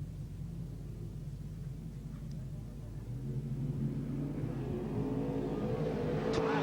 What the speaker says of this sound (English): So the restart with 8 laps to go for our modified rod rear markers race.